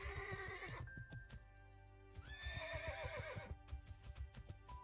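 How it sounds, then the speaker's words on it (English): Whinnying horse mount in World of Warcraft, with a long, loud neigh, a short pause, then a second wavering whinny over steady clip-clop hoofbeats while riding through a jungle zone. "Horsey's not liking the falls very much, but we'll get it"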